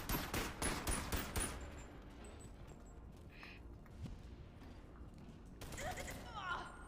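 Rapid bursts of gunfire from the VR game BoneLab crack out loudly in a quick cluster at the start, then again more briefly near the end, with talking in between.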